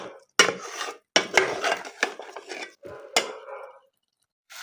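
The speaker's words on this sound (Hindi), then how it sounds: "अब मैंने इसमें डालने हैं ये शलजम और इनको भी दोबारा भूनना है" Turnips being fried with masala in a pot, heard as loud, close bursts of scraping and stirring against the pot separated by short silences.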